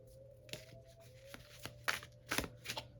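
Tarot cards being shuffled close up, a series of quick riffling snaps and soft flicks, quiet and irregular, with no talking.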